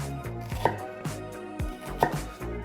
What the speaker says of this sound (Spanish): una vez que tenemos la cebolla pelada, cortamos un poquitito